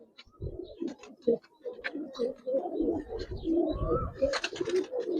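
Giribaz and coloured pigeons coo close by in irregular bursts of throaty, rolling calls, with flutters and scuffling noises breaking in between them.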